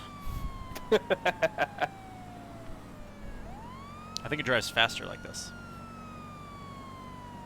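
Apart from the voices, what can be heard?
police car siren in video game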